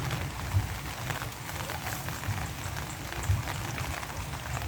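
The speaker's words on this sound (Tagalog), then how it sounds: "Ulan pa man din." Steady rain patters on a surface, a dense, even hiss with soft thuds, continuous and moderately close.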